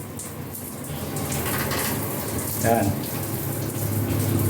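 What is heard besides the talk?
water running from a newly installed shower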